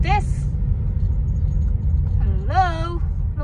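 A car drives along a rough, poorly surfaced road on a trip from Kota Kinabalu to Keningau, giving a steady low rumble throughout while people talk over it.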